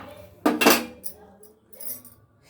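Dried coconut pieces drop into a grinder jar with a couple of sharp clattering hits close by, followed by softer scattered clinks and rattles.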